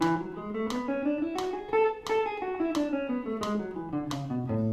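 Guitar runs a major scale sequence in double time, quick picked notes climbing and falling in steady groups with crisp attacks, played solo and close.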